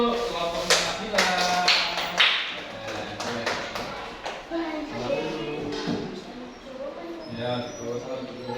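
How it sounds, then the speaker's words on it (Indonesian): Scattered, uneven clapping from a small classroom group of students as a student team comes forward. Individual sharp claps and taps stand out over children's chatter, rising and fading irregularly. "Tepuk tangan untuk kelompoknya Nabila"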